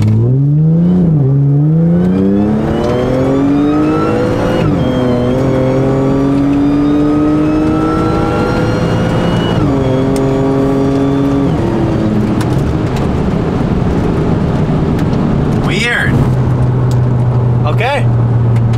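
A BMW M4 under spirited driving pulls hard through the gears, its engine note climbing and dropping with each shift and staying loud and close throughout, with a couple of sharp pops near the end.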